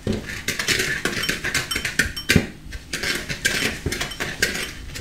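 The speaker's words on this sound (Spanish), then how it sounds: "El azúcar y vamos a batir hasta que se nos quede espumoso." Egg yolks and sugar beaten with a whisk in a bowl for an orange sponge cake, heard as a rapid, steady run of metallic clinks and taps of the wires against the bowl, close and fairly loud.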